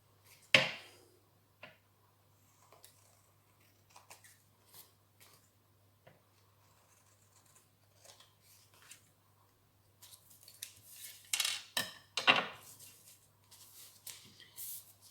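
Scissors snip away excess card stock in a handful of sparse, quiet cuts and paper rustles, with a denser flurry of crisp snipping and handling near the end.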